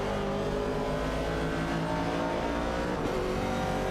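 An AMC Javelin '70 and other race cars in a racing video game, several engines droning together at sustained high revs, loud and constant with slight pitch shifts and no break.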